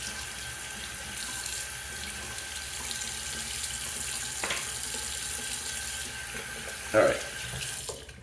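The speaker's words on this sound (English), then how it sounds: "Let me close off the sink there." Bathroom sink tap running steadily with a close, even hiss, with a brief knock of movement and a short spoken word near the end.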